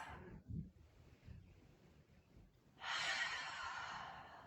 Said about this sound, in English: Let's take a couple more rounds of breath.